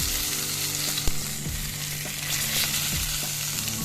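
Masala-coated fish sizzles and bubbles in hot oil up close, a steady crackling fry with a few soft stirring or turning knocks.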